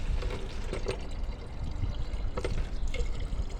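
Water is poured and splashes for washing at a house with no running supply for three days, a continuous close trickling and splashing with a few sharper spills.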